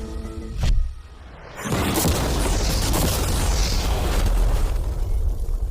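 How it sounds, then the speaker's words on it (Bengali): An ordinary car with mannequin passengers inside is blown apart by explosives: a sudden deep boom followed by a sustained roaring rumble of debris and fire, loud and close. "বিস্ফোরণটা এত জোরে হয়েছে যে ভিতরের ম্যানিকুইন গুলো ছিটকে এদিক ওদিকে বেরিয়ে গেছে"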